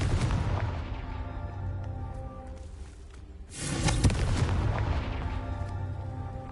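A Confringo explosion spell in Hogwarts Legacy bursts amid busy fight sounds, with a brief lull followed by a loud booming blast and continuing rumbling impacts.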